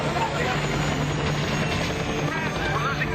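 A military helicopter flies with a steady, dense rotor and turbine roar, loud and close. Someone speaks over the noise.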